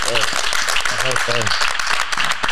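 Audience applause and cheering for the reggaeton artist Jowell at a live talk-show taping, a steady wash of clapping with voices chanting over it throughout.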